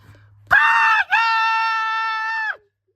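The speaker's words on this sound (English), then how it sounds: "Ami screamed hysterically." A cartoon girl screams hysterically: one loud, sustained high-pitched shriek lasting about two seconds, briefly broken near the start, then cut off abruptly, heard alone without talk.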